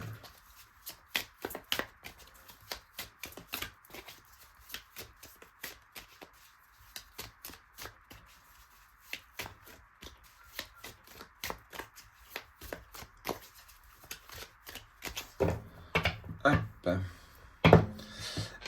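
Tarot cards are shuffled by hand in a quiet room, giving repeated sharp riffling snaps and soft slaps in uneven bursts that grow denser and louder toward the end.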